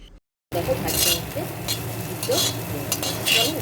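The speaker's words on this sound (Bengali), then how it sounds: "আমার কিন্তু আলু বেগুন বরবটি ভাজা হয়ে গেছে তো এইটাকেও আমি এখন তুলে এটাকে তুলে" Fried potato, eggplant and yardlong beans are scraped and lifted out of an iron wok, producing a steady sizzle with repeated metallic scrapes and clinks of a spatula after a brief silence.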